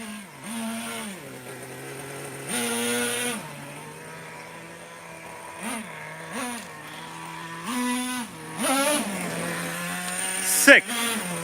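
A Traxxas T-Maxx Classic 2.5 nitro RC truck engine buzzes outdoors in a yard, its high, raspy whine rising and falling in repeated bursts as the throttle is blipped, with people talking between the revs.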